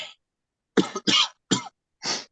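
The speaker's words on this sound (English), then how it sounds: "I apologize if I cough a little bit throughout today" A series of sharp, close coughs during a board meeting, one short burst followed by four more in an uneven rhythm with brief pauses between them.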